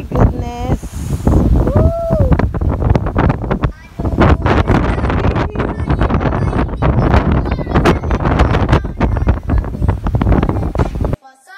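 Strong wind buffets the microphone almost nonstop at the historic Fort Charlotte lookout in Hanover, Jamaica, a loud rumbling roar that drops out briefly near the middle. A voice is faintly heard early on.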